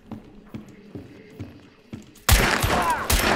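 Gunshots in a video game: a dense, loud burst of rapid fire erupts suddenly and continues to the end, preceded by quieter thudding footsteps or clicks at a steady pace.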